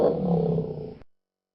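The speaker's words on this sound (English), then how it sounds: "to bear roars" A stylized bear roar for a snowy stalking-and-attack scene, one loud, close, sustained growling roar lasting about a second before cutting off into silence.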